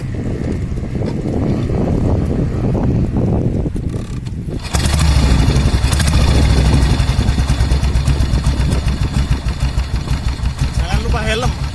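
A 1953 AJS 16MS 350cc motorcycle is ridden: after a few seconds of quieter background, a loud, close engine rumble sets in and holds steady to the end.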